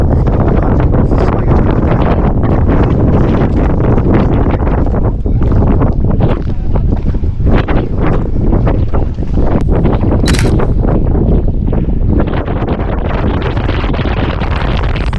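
Fierce wind roars across a snowy mountain ridge on Sobaeksan in Korea, a loud, constant buffeting blast battering the microphone with gusting surges throughout and no voices.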